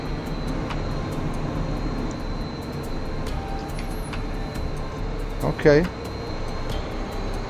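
An SU-27 jet engine idles in a flight video game as a steady, even roar that fills the whole clip, and someone briefly speaks near the end.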